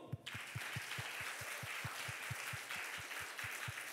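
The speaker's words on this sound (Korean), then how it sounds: "박수" A youth camp congregation at an evening worship service claps together in a steady, even rhythm of about four claps per second, the sound sharp and close with no speech.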